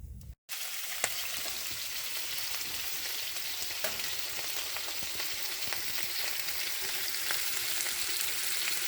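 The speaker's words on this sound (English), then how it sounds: "peppers, and jalapeno, and some sausage, spicy sausage. So we're gonna cook those all up and mix them up." Peppers, jalapeño and spicy sausage frying in a pan inside a wood-heated hot tent, a steady close broadband sizzle with occasional pops, continuous and fairly loud with no talking.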